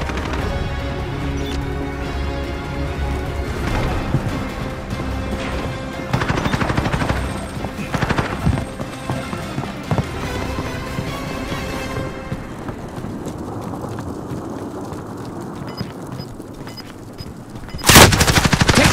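Gunfire in a Call of Duty: Modern Warfare match: loud, dense bursts of automatic fire mixed with single shots and heavy blasts, ending with a sharp, loud crash of shots.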